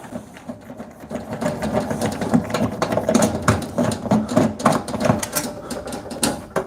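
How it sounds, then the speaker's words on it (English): Number 2 square screwdriver backing the bottom screws out of an electrical panel, close rapid ratcheting clicks and grinding turns in uneven bursts, fairly loud. "I always take the bottom screws out"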